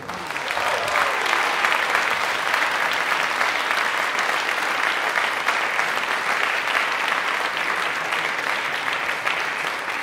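Sustained audience applause greets a big band at a 25-year jubilee concert, a thick, even roar of clapping that holds steady and fairly loud for ten seconds without a break.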